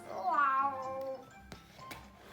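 A single kitten meows with a drawn-out, rising-then-falling cry, followed by a couple of faint clicks.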